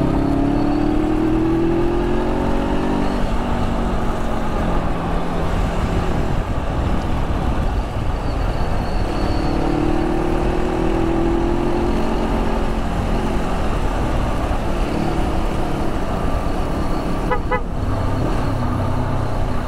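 A motorcycle engine labors loud and close while climbing a steep mountain road between Capas and Botolan in Zambales, its pitch rising and falling with gear changes through a steady roar, with a brief sharp click near the end.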